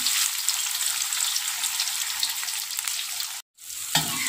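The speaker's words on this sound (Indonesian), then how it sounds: "Selanjutnya di sini kita goreng ini ya, tahu" Tofu frying in hot vegetable oil makes a close, steady hiss of bubbling that cuts out abruptly for a moment near the end, then resumes more quietly.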